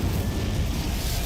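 The Incendio fire spell cast in a Hogwarts video game: a brief, loud, roaring burst of flame that fills the short moment evenly, with no talking.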